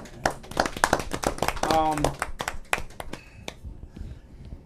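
Audience clapping at a youth project stage show, a dense run of hand claps and snaps mixed with shouting voices and talk, loudest in the first couple of seconds before thinning out.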